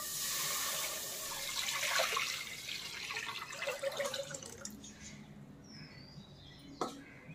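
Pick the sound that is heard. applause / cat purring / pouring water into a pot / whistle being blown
pouring water into a pot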